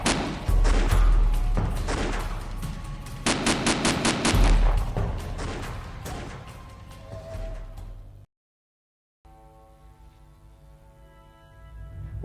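Rapid gunfire bursts in Shadow of the Tomb Raider, loud dense volleys of shots fired at the player, some in fast repeated strings, before a brief silence and a quieter ambient tail.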